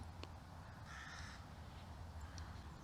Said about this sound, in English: that was a seagull passing over